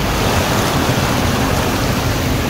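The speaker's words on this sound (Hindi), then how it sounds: "यहाँ पर बहुत ज्यादा पानी अभी चल रहा है।" Strong flowing water on a rocky coastal path near Kamnath temple, a loud, dense, continuous rushing roar with no pauses, heard up close.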